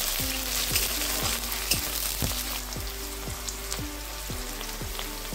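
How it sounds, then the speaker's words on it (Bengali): A large chopped onion is added to a little hot oil with whole spices. It fries with a steady, close sizzle, and a spatula scrapes and stirs through the pan at a regular rhythm. "এবার দিয়ে দিচ্ছি পেঁয়াজ কুচি।"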